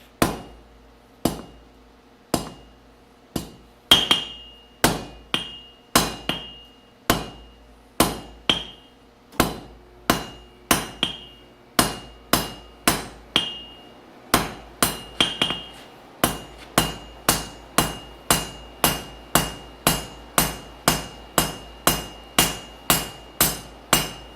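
A hammer forges a taper on a hot bit, ringing blows struck one after another in a steady rhythm with short pauses between runs, loud and close.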